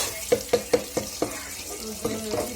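Onions frying in a pan for a crab curry with tomato: a run of sharp scrapes and clatters, about five in quick succession, then softer stirring over a low background sizzle, close up.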